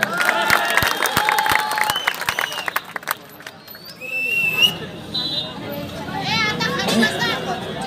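A rally crowd in Aurangabad bursts into loud applause and cheering, dense clapping for the first few seconds, then settling into a murmuring crowd with scattered whistles and a speaker's amplified voice.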